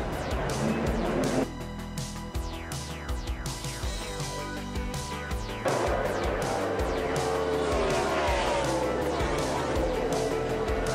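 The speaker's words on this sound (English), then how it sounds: "big crash in turn number 2, David Ruderman." NASCAR stock cars crashing in turn two during a race, loud engine roar with tire squeal and skidding under a continuous crowd and commentary wash, heavy and sustained throughout.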